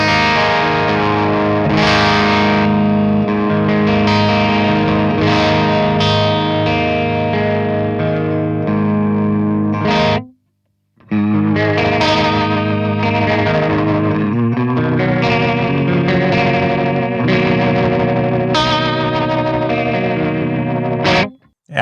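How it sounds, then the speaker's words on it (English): Electric guitar played through an H&K Triamp MKIII with a Fractal VP4 rotary effect, giving loud swirling chords and riffs that ring continuously, with one brief pause near the middle. "Added a rotary effect there on the Fractal VP4."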